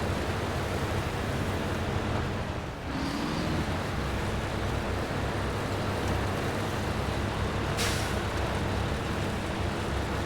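A heavy truck engine in SnowRunner drones steadily while climbing a very steep hill, a dense continuous rumble that holds for the whole stretch with a couple of brief shifts in load.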